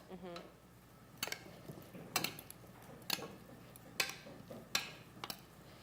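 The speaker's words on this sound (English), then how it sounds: "So we'll mix it up." A big spoon stirs tabbouleh in a bowl with olive oil, making about five distinct scraping clicks roughly once a second, moderately close over a quiet kitchen background, with a brief voice at the start.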